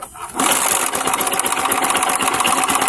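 A motorcycle engine fires up after a brief quiet start and settles into a loud, steady running clatter with a busy mechanical rhythm, heard close and alone, no talk over it.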